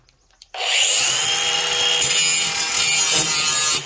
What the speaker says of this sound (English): I'm just gonna sharpen them with a grinder